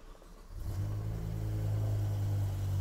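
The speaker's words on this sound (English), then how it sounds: "the V10 does sound absolutely wonderful, even in stock form, where it is a bit muffled" The stock V10 of a BMW M6 starts quiet, then swells into a strong, steady rev that holds close by for a few seconds. The note is slightly muffled, and no one speaks over it.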